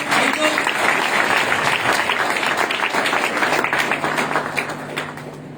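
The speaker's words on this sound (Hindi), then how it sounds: "एक बार जोरदार एक बार और ताली हो जाना चाहिए।" Loud sustained audience applause fills a training event hall, many hands clapping densely and evenly before slowly easing off toward the end.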